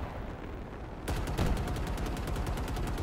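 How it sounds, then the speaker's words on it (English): Gun mod gunfire in Minecraft, a rapid burst of automatic shots starting abruptly after a second and repeating in a fast even rhythm, loud and close, no talk. "with the gun mod, you know, I can shoot in the air"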